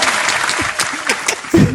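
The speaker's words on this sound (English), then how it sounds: "let's give her a clap" A small group claps for a woman, brisk applause filling the moment, with a brief burst of a voice near the end.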